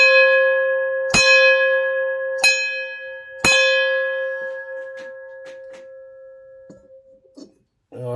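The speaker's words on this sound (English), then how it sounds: "And we ring the bell." A bell is struck three times in close succession, with each strike ringing out clear and loud and decaying slowly. Softer, fainter taps follow in an otherwise quiet room.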